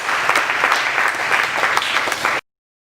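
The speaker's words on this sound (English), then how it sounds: "Let's clap for Master Jesus." Church congregation applause during a deliverance service: sustained crowd clapping, loud and even, with individual claps poking through the wash, cutting off abruptly after about two and a half seconds.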